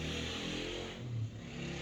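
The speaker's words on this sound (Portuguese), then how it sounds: "Barulho de moto aí" Motorcycle passing outside, a brief muffled engine drone that swells and fades, heard at a distance through a room.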